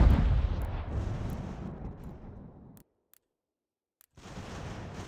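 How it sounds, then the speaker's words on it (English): Mortar artillery fire from the American Revolution battle game Ultimate General, a heavy booming blast that rolls off into a fading rumble, followed by a short silence and then another rumbling report. "Mortars."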